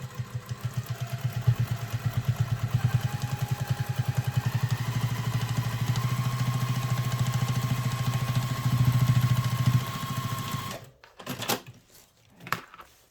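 A sewing machine topstitching along a fabric bag, a fast, steady rhythmic whirr of stitches running close and continuous for about ten seconds, then stopping with a few short clicks and handling sounds.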